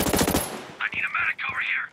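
Hostile gunfire in the tactical shooter Ghost Recon Breakpoint, a quick burst of rapid automatic shots followed by two rising electronic alert tones, close and loud with no talk.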